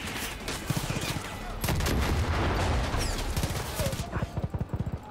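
Mortar and gunfire in the video game Far Cry 5: a dense volley of booming blasts and rapid shots, loud and close, with sharp bursts cutting in and out of continuous battle noise.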